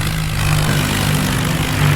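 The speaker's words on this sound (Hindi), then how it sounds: "तो खुद ही रेस दिए हैं मैंने इस ट्रैक्टर को" Tractor engine in the Indian Vehicle Simulator 3D video game, revving hard while pulling, a steady loud low drone with a sustained tonal hum and no pauses, heard alone.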